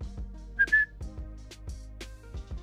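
Short referee whistle from a Fortnite NFL outfit, two brief shrill blasts over a looping game music bed.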